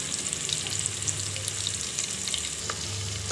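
Chopped onions, garlic and curry leaves fry in a pan of hot oil for sambar, giving a steady, even sizzle with bright crackles throughout, close and alone without speech.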